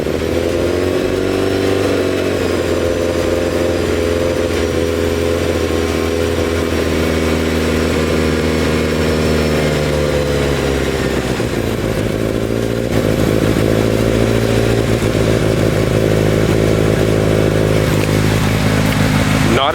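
Mitsubishi Evo 8 engine burning oil from the cylinders, idling with a steady loud rumble, then revving up to a higher sustained drone partway through.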